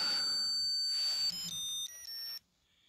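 A 1981 Zeon 007 James Bond digital wristwatch gives its hourly chime, a short close sequence of high, thin electronic beeps stepping between tones, heard alone before fading to quiet.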